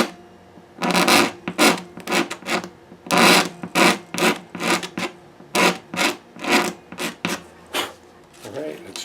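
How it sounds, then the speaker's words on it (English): On an Epiphone Masterbilt guitar, a tool scrapes in quick back-and-forth strokes to adjust intonation, making a loud, close, rhythmic rasping of about fifteen strokes in bursts. "A couple of scrapes should do it."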